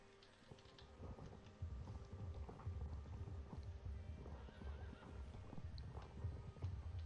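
Horses in the video game Star Stable: a horse whinnies and hooves clip-clop over a steady low rumble of wind-like ambience, moderately loud throughout.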